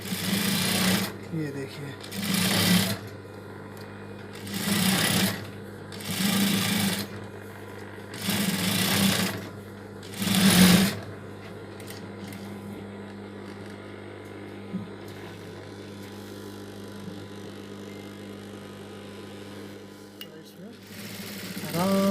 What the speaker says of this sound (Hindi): ऊपर से हमको एक सिलाई लगा लेनी है साइड में।